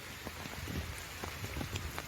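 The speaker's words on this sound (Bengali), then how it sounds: "বৃষ্টি অনবরত পড়েই যাচ্ছে" Continuous rain falling during a flood in a Bengal village, a faint, steady patter with scattered individual drops striking a surface, no voices.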